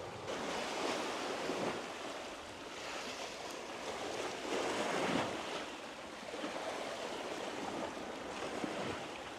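Ocean waves break over rocks along a rocky shoreline where someone is fishing, giving a continuous rushing surf with repeated swells, steady and fairly loud, with wind noise and no talking.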